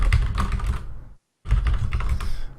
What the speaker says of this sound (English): Sorry for the typing noise